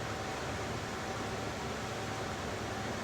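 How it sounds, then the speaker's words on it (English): An air conditioning unit hums and hisses steadily in the background, a constant even wash of broadband noise with no variation until it stops abruptly. "you can hear the air conditioning in the background"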